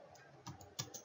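A few soft keystrokes tapped on a computer keyboard, quiet and close, with a brief uneven rhythm and a slightly firmer press near the end.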